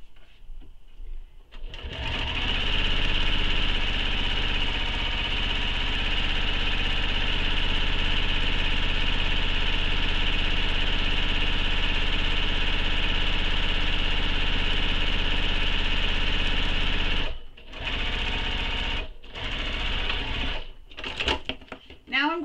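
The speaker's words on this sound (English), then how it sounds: "To sew the second row of stitching" A sewing machine stitches a tote bag in one long steady whirring run, then stops and starts in a few short bursts near the end.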